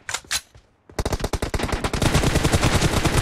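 An M416 rifle fires in the PUBG Mobile video game. Two short bursts are followed by a brief pause, then loud, rapid automatic fire builds into a dense, continuous stream.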